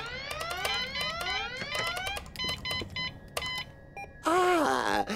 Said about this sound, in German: Gut, dann schalten wir jetzt den Alarm wieder aus.